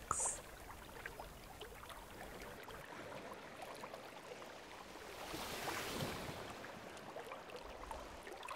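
Ocean waves wash in a continuous hiss, with a broad swell of surf rising in the middle before easing back to a steady, soft roar.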